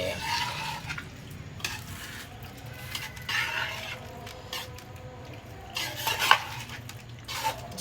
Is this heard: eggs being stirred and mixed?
yes